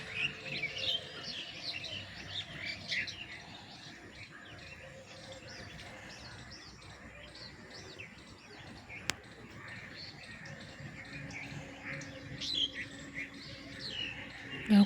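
Many birds chirp and call together at dawn in a rural setting where egrets, drongos, doves and pigeons gather, a dense, steady chorus of overlapping tweets near and far throughout.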